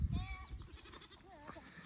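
Sheep bleat on a farm during a sheep drive, several wavering calls in the first half and again near the end, over wind noise and movement close to the microphone.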